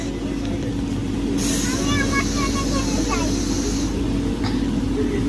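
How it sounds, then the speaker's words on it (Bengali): A passenger train runs steadily after a late departure, a loud continuous rumble and rattle throughout, with brief high squeals in the middle and faint voices in the carriage. "আসলে ট্রেনটা দিতে একটু লেট করেছিল, সেই জন্য একটু লেট করে ছাড়লো।"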